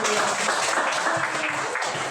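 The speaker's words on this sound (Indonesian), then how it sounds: "Tepuk tangan." Continuous applause from a classroom group after a discussion group presents, dense overlapping claps filling the whole span at steady moderate loudness, with faint voices underneath.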